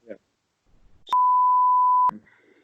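A single loud, steady electronic bleep lasting about a second, with brief speech fragments just before and after it.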